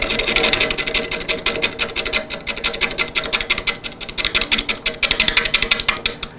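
Wood lathe spinning a burl bowl blank at about 200 RPM while a tool cuts it, giving a continuous loud scraping with a fast pulsing rhythm, close and steady throughout.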